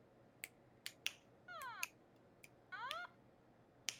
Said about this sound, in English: Apparently, the sound of your snapping fingers isn't the fingers like pushing together.